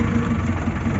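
A restored English taxi engine running steadily at idle, a close, continuous low rumble with even vibration and no talking.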